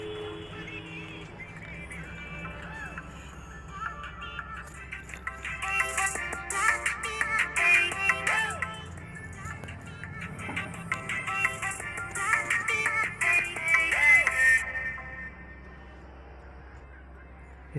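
Music plays quietly through the worn speaker of a Realme 5-series phone with a low-volume fault, a steady song with melodic tones and a thin, tinny quality, with no talk over it.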